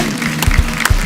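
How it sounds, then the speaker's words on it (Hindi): Studio audience on a comedy talk show breaks into applause, a dense burst of clapping that holds steady for about a second with a few sharper claps standing out. "दोस्तों एक बार जोरदार तालियां होनी चाहिए हमारे शूरवीरों के नाम।"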